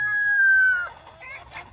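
A backyard chicken flock nearby: a rooster's loud crow rings out and breaks off, followed by several quick, scattered clucks from the hens.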